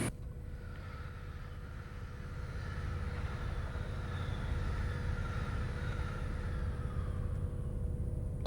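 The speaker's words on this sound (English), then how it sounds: "Okay, that was a train I couldn't see." A passing train on the Scottish East Coast Main Line in Train Simulator, heard as a steady, fairly faint rumbling roar with a slight swell through the middle and no talk.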